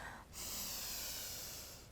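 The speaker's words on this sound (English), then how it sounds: "Breathing in." Steady breath drawn in during a yoga flow, a soft airy hiss lasting about a second and a half after a brief pause, close and quiet.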